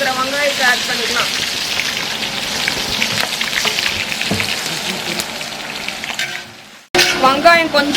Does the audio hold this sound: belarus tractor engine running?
no